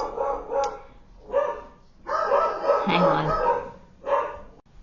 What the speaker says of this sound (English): The dogs went crazy.